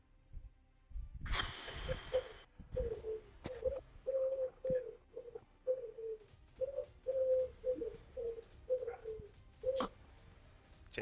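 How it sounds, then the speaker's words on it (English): A wood pigeon coos in a steady, repeating rhythm of soft, hollow notes at moderate distance, following a brief rustling clatter at the start. "But I can hear wood pigeon as well."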